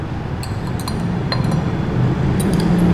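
Salt solution being stirred in laboratory glassware after drops of BTB, methyl orange and phenolphthalein indicators, giving soft scattered glass clinks and taps over a steady low background hum, close by with no talk.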